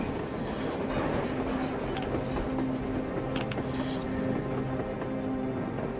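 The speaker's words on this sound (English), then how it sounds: "A train! A damn train on the surface!" A train rolls past on the surface in the post-apocalyptic video game Metro Exodus, giving a steady rumble of wheels and wagons with faint squeals, loud and continuous for several seconds.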